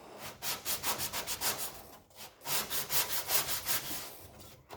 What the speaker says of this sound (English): There's less resistance because it's only sanding up and not everywhere.